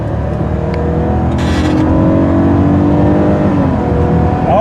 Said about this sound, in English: let's give her some revs.